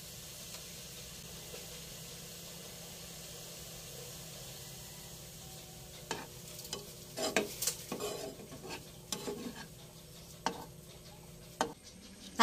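Soybean coffee powder being stirred into hot water: a quiet steady background hiss, then a run of distinct spoon clinks and scraping stirs against the cup, growing busier toward the end.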